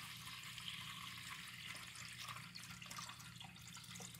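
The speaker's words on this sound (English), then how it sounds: "So you're going to put the water in" Water poured into a 3-quart iced tea maker: a faint, steady trickling stream of liquid runs throughout without pause.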